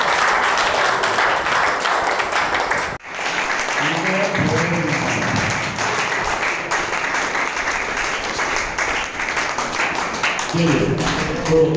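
Loud applause from an audience at a de-addiction class event, sustained dense clapping filling the whole stretch, with a brief dip near the start and voices murmuring beneath it.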